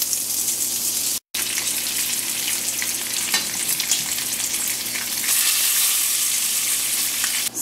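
Thick-cut uncured applewood smoked bacon frying in a pan, giving a steady, fairly loud crackling sizzle that runs throughout with one brief dropout near the start and no talk.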